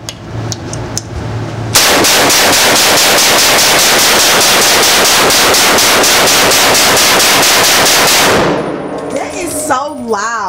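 Rapid gunfire at an indoor shooting range, a dense, very loud burst of back-to-back shots lasting several seconds with metallic clangs, ending abruptly and followed by faint rattling.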